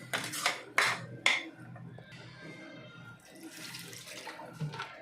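Several short splashes of water land in a pan, followed by a low, quieter bubbling and a last faint splash near the end.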